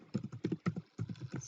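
Fingers tapping out an email address on a computer keyboard, a quick burst of close keystrokes in small clusters with short pauses, no talking.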